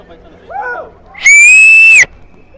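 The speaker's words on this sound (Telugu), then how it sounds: "ఇప్పుడు నేను విజిల్ వేస్తాను, దాన్ని ఎలా వస్తుందో" A person whistles at Echo Point in Munnar, a brief soft call followed by one loud, sustained high whistle lasting under a second, close and clear, ending abruptly.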